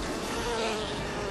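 Mosquito buzzing effect in a Raid insecticide advert, a continuous steady whine held at even loudness throughout, with no voices.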